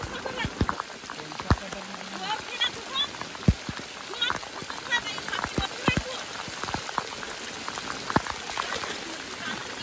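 Heavy rain pours down outdoors during a fishing trip at a pool, a dense steady hiss of drops on surfaces with scattered sharper splashes and knocks throughout.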